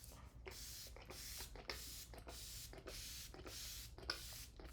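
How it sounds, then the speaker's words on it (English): A spray bottle nozzle sprays onto hair in quick repeated bursts, about eight short hissing pumps in an even rhythm, close and quiet. "This nozzle is like a super soaker. It does not distribute. It just sprays."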